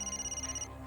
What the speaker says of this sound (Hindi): अरे रे, रात के 2 बजे किसका फोन आया होगा?